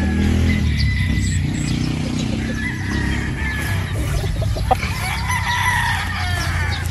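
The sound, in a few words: Boston Black broodstag rooster crowing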